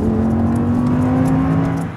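Audi R8 supercar cruising, a steady engine drone with a sustained whirring tone and road rumble, close and fairly loud, easing off slightly at the end.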